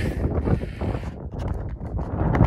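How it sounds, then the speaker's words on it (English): Wind buffets outdoors, gusting loudly and continuously with rough rumbling against the microphone, along with some scattered knocks and clatter. "Pretty windy though today."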